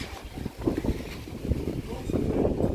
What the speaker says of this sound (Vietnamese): Gió to lắm.